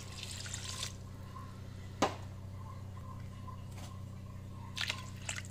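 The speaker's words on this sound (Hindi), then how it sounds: "तो 2 गिलास पानी डाल देंगे।" Water poured from a glass into a pot of washed rice in a home kitchen, faint liquid trickles and a couple of brief splashy drips over a low steady hum, no talking.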